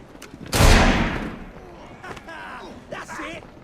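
A single loud, close gunshot from a firearm in Assassin's Creed Syndicate, set in Victorian London, cracks sharply and rolls off in a long decaying boom before quieter voices talk over the background.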